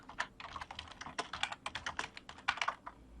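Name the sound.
typing on a computer keyboard in a form builder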